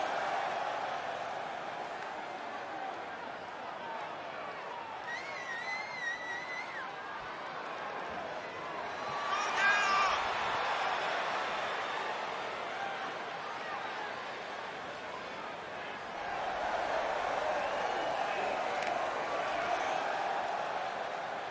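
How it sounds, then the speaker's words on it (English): An indoor wrestling event crowd roars and cheers at a steady mid distance, rising in a couple of swells, while commentators talk over the noise. "it sounds to me like this crowd already picked the one who they want to win this match"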